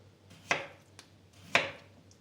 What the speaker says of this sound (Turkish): Sebzeleri doğrayarak başlıyorum arkadaşlar. Şöyle patatesleri halka şeklinde